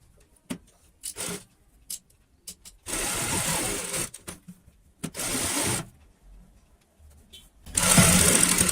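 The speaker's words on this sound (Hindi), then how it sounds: "तो इसी के ऊपर अब हम यहाँ पे सिलाई लगाते हैं इस प्रकार से।" Domestic sewing machine stitching a cushion cover made from leftover fabric scraps, running in several short bursts of a few seconds each, separated by quiet pauses and light handling noises.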